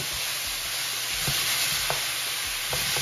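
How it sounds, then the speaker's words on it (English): Assorted peppers are stirred into a sizzling chicken fajita mixture in a hot pan, with a constant close hiss and a few spatula scrapes and taps. "Just adding all my peppers, all the assortment peppers into the fajita mixture and just combining everything."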